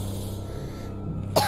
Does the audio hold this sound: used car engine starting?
no